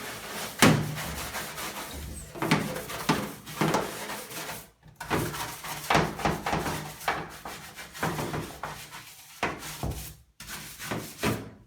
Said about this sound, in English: I'm going to use this scrub brush and just scrub down the tub really well